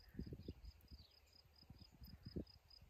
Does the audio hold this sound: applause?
no